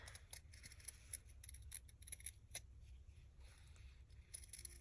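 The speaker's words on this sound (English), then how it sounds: "cut out a heart" Scissors cut a heart shape out of a piece of fabric, giving soft, faint snips and small clicks at close range in a quiet room.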